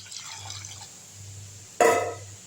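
Hot water is poured into a clay pot for rinsing dried anchovies: a sudden loud splash and gush near the end, after a quiet stretch with faint low hum and light trickling.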